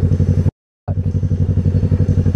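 A drag racing dragster motorcycle engine at a motorcycle drag meet at Henstridge runs close and loud with a steady, rapid thumping rumble, cut off by one brief silent gap before it carries on.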